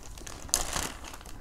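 Plastic seed packets of Ukrainian varieties are handled up close, with soft crinkling and one sharper rustle midway.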